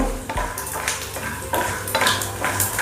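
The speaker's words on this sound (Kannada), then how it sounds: "ಸ್ವಲ್ಪ ಕಡಲೆಬೀಜ ಫ್ರೈ ಆಗೈತೆ" Peanuts sizzle in a hot pan as a spoon clinks and scrapes through them in several quick stirring strokes, close and fairly loud.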